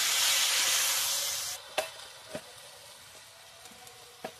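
Potatoes and eggplant fry loudly with turmeric, salt and spices, a strong close sizzle that fades after a second and a half into a faint hiss with a few light stirring knocks.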